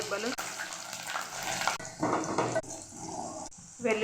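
Garlic cloves fry in hot oil alongside cumin, mustard seeds and dried red chillies for a tempering, giving uneven bursts of sizzling and crackling with some stirring, faint and fairly close.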